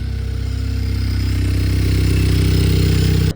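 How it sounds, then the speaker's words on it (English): A forgotten project car's engine, running again after repair, idles loud and close with a steady, throbbing low rumble and no voices, then cuts off abruptly at the very end. "very relieved that the car is running again and working like it should be"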